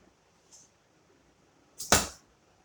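An arrow loosed from a bow strikes a homemade tin target with a single sharp, loud metallic smack, preceded by a faint brief hiss.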